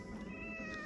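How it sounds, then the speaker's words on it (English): A house cat gives a single short meow, clear and close, with a rising then falling tone in a quiet room. "She's been meowing."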